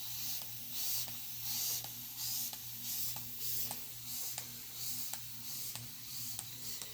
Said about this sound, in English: Now I'm going to spray my hand.